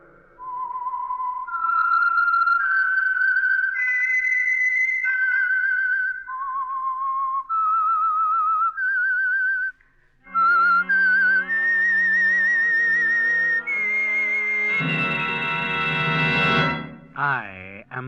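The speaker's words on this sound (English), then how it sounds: "That whistle is your signal for the Signal Oil Program" Signature whistled theme of the 1949 radio mystery series The Whistler, a lone melodic whistle rising and falling in clear sustained phrases, then joined by orchestral music swelling near the end.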